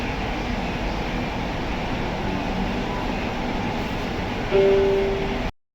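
A metro train pulls away, a steady broad rumble and rolling hum held at even loudness, with a brief tonal whine rising near the end before the sound cuts off.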